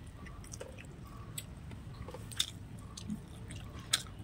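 Someone eats hot rice with spicy mutton kosha cooked by a clay stove, giving faint, soft wet chewing and squishing with a few brief crunchy bites over low background noise.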